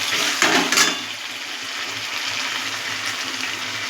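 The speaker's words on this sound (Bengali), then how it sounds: "বাটিটা ধুয়ে একটু জল দিয়ে দেবো" Water is run to rinse a bowl in a home kitchen, a steady close rush of splashing water with a couple of brief louder clatters near the start.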